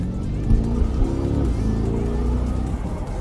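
A 2021 C8 Corvette pulling hard from a dead stop, heard from inside the cabin with windows closed and loud exhaust mode on: a steady, muffled low engine drone that holds fairly level for several seconds, with no clear rising rev sweep.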